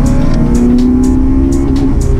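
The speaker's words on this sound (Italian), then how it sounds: "Fuori giri in seconda." A Honda Type R engine screams at high revs over-revving in second gear on a track, holding a steady, strained pitch that climbs slightly, loud and close as if heard from inside the car.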